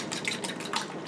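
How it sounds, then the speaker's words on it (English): Fork whisking spiced egg in a bowl for schnitzel, a fast, continuous wet clicking and sloshing against the dish, close and steady with no voices. "I might as well just spice the egg. And then mix them through. Just use a fork real quick."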